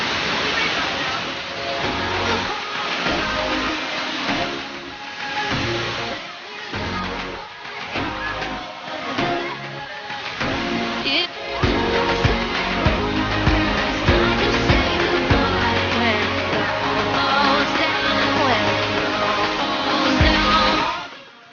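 The Kambal Busay twin waterfall in Bulusan, Sorsogon, roars as a dense, constant rush of falling water, loud and close, with a voice faintly present beneath the steady wash.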